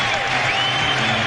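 A basketball arena crowd at a Bulls versus Wizards playoff game in 2005 roars and applauds loudly, a dense, continuous wall of cheering that fills the whole moment.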